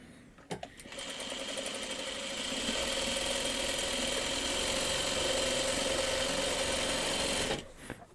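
Sewing machine running a continuous stitching burst through fabric, a fast even whirring drone that starts after a brief click and stops abruptly near the end.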